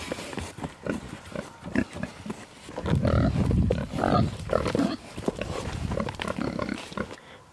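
Several pigs grunting and snorting up close in a farm pasture in the morning, with irregular bursts of grunts that grow louder and busier midway.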